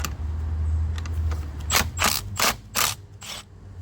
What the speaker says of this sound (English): Just loosen that one a little bit, and I'll use the same, use my ratchet for the one in the back.